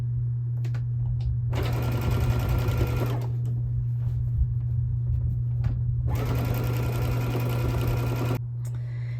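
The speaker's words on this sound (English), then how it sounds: "turn the quilt, fold away, fold back towards you, and continue sewing" A sewing machine stitching binding onto a quilt runs in two long, loud, close bursts of rapid stitching, separated by a pause over a constant low motor hum.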